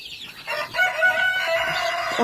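Bantam chickens, including a small rooster and hens, cluck and crow close by in a coop, a steady run of overlapping squawks and calls filling the moment.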